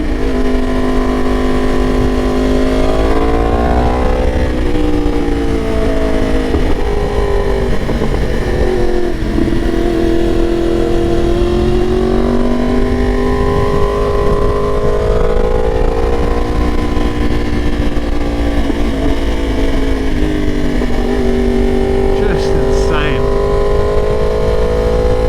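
A tuned Yamaha R1 Limited Edition motorcycle accelerates hard, its loud, close engine note climbing and dropping through repeated gear pulls over steady wind rush.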